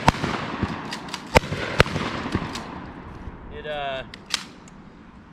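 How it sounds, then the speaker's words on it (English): Rapid slamfire shots from a 108-year-old, worn steel Winchester Model 1912 pump shotgun: several loud, sharp reports in quick, uneven succession, close by, with a brief voice. "And the best thing about the Winchester Model 12 is Slamfire."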